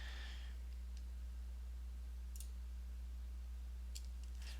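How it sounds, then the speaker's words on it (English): Several sharp mouse clicks, spaced irregularly, sound close and crisp over a low steady electrical hum while someone tests a camera actor in a game editor. "And then if I click it again"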